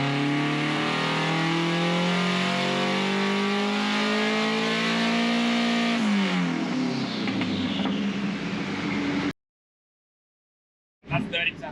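A car engine runs on a dynamometer at 30% throttle, droning loud and steady with rising harmonic tones before it shifts pitch and then cuts to silence, followed by a brief burst of sound.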